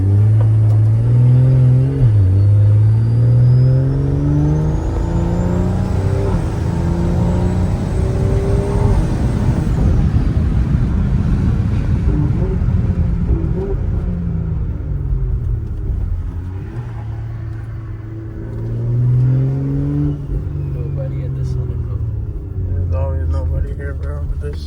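Engine of a tuned BMW X3 M40 revving and pulling hard under acceleration, a loud, close drone that rises and falls through the gears with a high turbo whine, as people talk inside the cabin.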